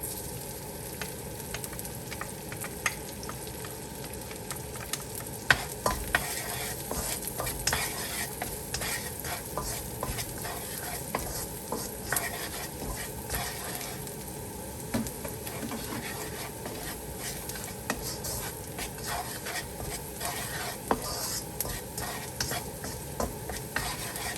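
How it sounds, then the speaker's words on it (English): Minced garlic fries in hot lard for Malaysian Hokkien mee, giving a steady, close sizzle with scraping stir strokes and occasional ticks throughout, no voices. "I add in the lard. And I put in minced garlic."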